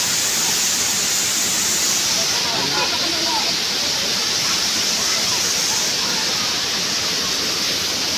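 Balagbag Falls roars in a constant broad rush of water, swollen after rain, loud and steady throughout, with faint voices barely audible beneath it.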